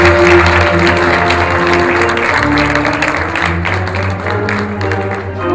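Audience applause at an outdoor civic ceremony in Yamoussoukro during a national civic week caravan, a steady dense wash of clapping with crowd noise and a sustained low hum running underneath throughout.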